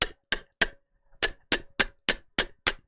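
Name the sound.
vocalized hollow inward click imitating a beatbox sound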